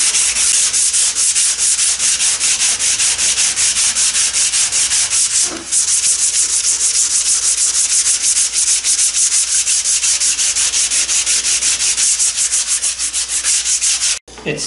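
Rapid rhythmic sanding scuffs across wooden daggerboard box side panels on a dinghy build, a continuous close raspy stroking with a brief pause midway and a knock near the end.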